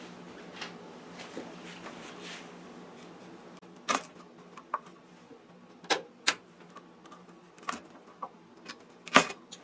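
A knife chops potatoes into quarters on a cutting board, giving sparse sharp taps and knocks at irregular intervals, close and fairly quiet, with no talk.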